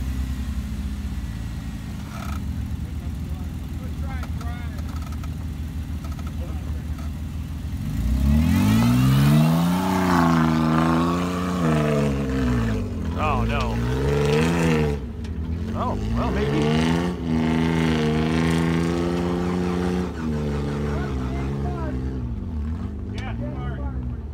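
A car engine revs hard in first gear, the pitch sweeping up and dropping in repeated rises after a steady idle, loud and near, with people talking over it at points.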